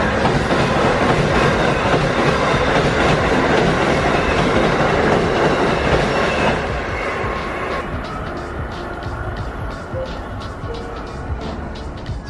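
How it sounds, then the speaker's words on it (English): A commuter train passes through Secaucus station in New Jersey with a loud, close rumble and rhythmic clickety-clack of wheels on rails, then the noise drops as the cars pull away, leaving softer rolling clatter. "I'll show you the train that's coming right now"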